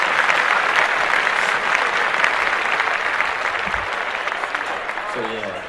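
A crowd at a presentation on a Black Wall Street board game applauds loudly and steadily, a thick wash of clapping that eases slightly near the end as a voice starts to speak.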